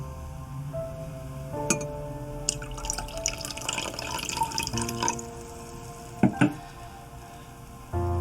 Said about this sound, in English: Let's see what happens when you pour Balance 7 into the very acidic soda.